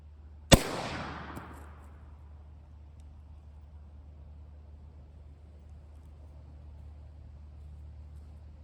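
A single sharp, loud gunshot from a .45 Colt loaded with Underwood 225-grain lead hollow point rounds, cracking near the start and then fading through a long decaying echo into a quiet outdoor hum.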